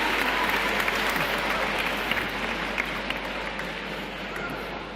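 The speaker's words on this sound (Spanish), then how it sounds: "Un aplauso" An audience applauds a student receiving a prize, with continuous, fairly distant crackling clapping that holds steady and fades gently.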